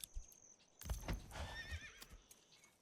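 A horse whinnies with a bright, wavering neigh among medieval village sounds in Manor Lords, with faint hoof clops and no talk.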